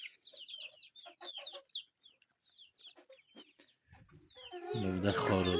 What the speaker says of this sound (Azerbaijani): Burada xoruzdur.